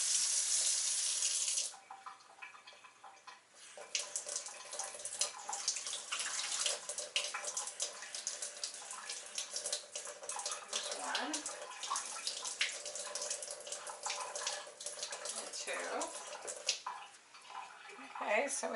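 Water runs from a kitchen tap as a cake mix in a cup is prepared, a steady close rush filling the whole clip after a brief louder start, with light clinks and a voice speaking now and then over it.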